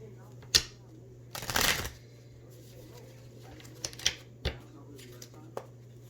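Island Time Wellness oracle cards being shuffled close up, with one brief riffling burst and a few sharp card taps and flicks spread across a quiet background hum.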